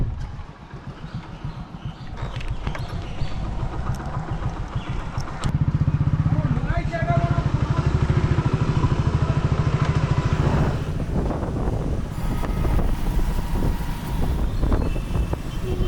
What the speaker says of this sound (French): petite expérience du Uber moto assez rigolote